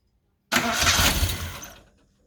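A 1975 Holden Gemini TX coupe engine cranks and catches for the first time on the key with no throttle, a sudden loud burst after silence that roars briefly and then quickly fades away.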